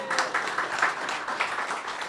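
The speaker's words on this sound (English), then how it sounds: "let's give her a round of applause" An audience in a coffee parlor applauds a barista with a short burst of moderate clapping from a small crowd that holds steady for about two seconds.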